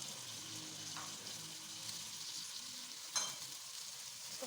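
Shredded cabbage and bell peppers sizzling in a hot pan, a constant close frying hiss with a light scrape of stirring near the end and no talking.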